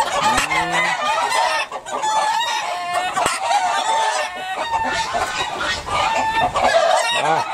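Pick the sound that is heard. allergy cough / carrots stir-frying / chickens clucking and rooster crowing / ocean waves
chickens clucking and rooster crowing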